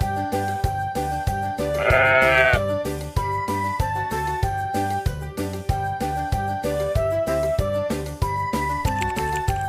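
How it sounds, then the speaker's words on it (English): About two seconds in, a single quavering sheep bleat rises over a bouncy, looping instrumental tune that plays steadily from start to finish. "The sheep is a domestic animal."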